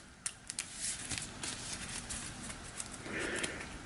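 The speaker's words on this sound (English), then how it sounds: "Give the tarot deck a few shuffles." Tarot cards riffled and shuffled by hand close up, a soft papery flutter with a few sharp snaps near the start and steady rustling throughout, no talking.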